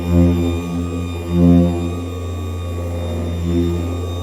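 A car polishing machine runs steadily on a hood, giving a constant motor drone with a tonal hum that swells slightly in a few spots as pressure shifts. It is close and loud with no talk.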